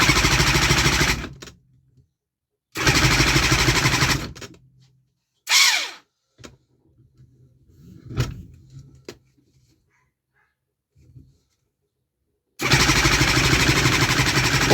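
A 3D-printed two-cylinder two-stroke engine, with no fuel or spark, is spun by an external starter in loud whirring bursts of a second or two each, separated by silence and a few scattered clicks and clunks.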